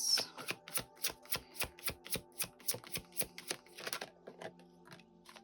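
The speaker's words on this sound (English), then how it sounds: "I'm gonna get 3 cards." Tarot cards are shuffled close up, giving a regular series of about a dozen crisp riffling flicks that loosen into softer rustling toward the end, quiet and without talk.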